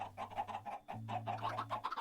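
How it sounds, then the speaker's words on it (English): Several chickens cluck in quick, irregular bursts over a steady low electronic hum, in the video game Minecraft. "How do we kill the rest of these chickens?"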